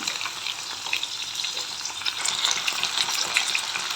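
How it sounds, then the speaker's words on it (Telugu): Five tomatoes sizzle and fry in hot oil in a pan for a capsicum tomato gravy, giving a steady, close crackling hiss with no voices. "ఇప్పుడైతే ఒక 5 టమోటాలు కూడా వేస్తున్నాయి ఇందులోకి."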